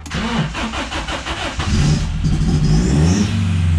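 A BMW 318 IS engine cranks in a rapid rhythmic starter churn for over a second, then catches and settles into a loud, steady idle with slight revving close by.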